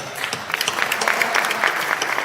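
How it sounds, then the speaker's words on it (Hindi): Audience applause at a Hindi poetry recital, steady, dense clapping from a crowd that carries evenly through the whole stretch with no speech over it. "बहुत अच्छी कविता खत्म, ताली बजाओ।"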